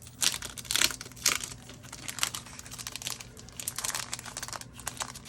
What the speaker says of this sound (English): So some more crinkling.